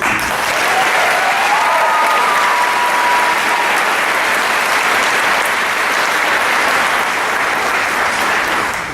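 A graduation ceremony audience claps for the class of 2019, a dense, sustained wave of applause that stays loud and even throughout, with a few faint whoops rising above it early on.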